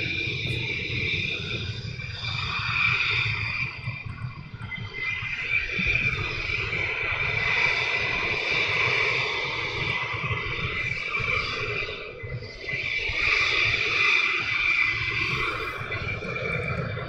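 A military jet taxis out at RAF Lakenheath, heard as a continuous distant roar and whine of turbine engines with a rumbling low end, steady throughout with slight swells in intensity.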